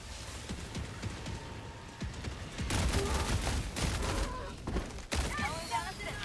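Helldivers 2 explosive mortar fire against bugs, a dense barrage of thuds and blasts rolling in repeated waves under a constant rumble, with people talking over it.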